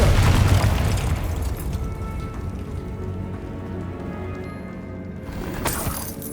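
A Confringo explosive spell from Hogwarts Legacy detonates with a heavy boom at the start, then a long crackling, rain-like debris tail fades over several seconds before a second rumble swells near the end.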